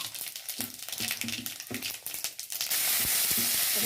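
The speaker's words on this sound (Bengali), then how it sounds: "এই দেখো তেল গরম হয়ে গেছে, এই যে শুকনো লঙ্কা দিয়ে দিলাম, আর এই দেখো পাঁচফোড়ন এই যে দিয়ে দিয়েছি।" Dried red chillies and panch phoron crackle and spit in hot oil, the popping bursts giving way to a loud, steady sizzle close by.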